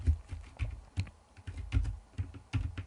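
Typing on a computer keyboard while entering text into a PowerPoint document: a steady run of close, crisp key clicks in quick uneven bursts, with short gaps between them and no voices.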